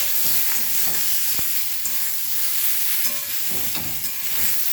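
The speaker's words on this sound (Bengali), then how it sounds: "চালতাটা দিয়ে ভালো করে ভাজবো।" Boiled elephant apple (chalta) fries in hot oil with bay leaf, giving a constant soft sizzle broken by occasional scrapes and clacks of stirring.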